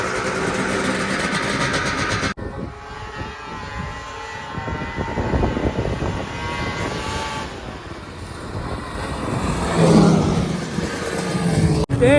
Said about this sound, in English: Let's see what happens in a drag race.